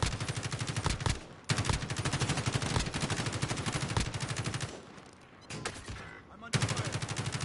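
Assault rifle fire in the shooter game Warzone: rapid automatic bursts rattle continuously, broken by short pauses, loud and close.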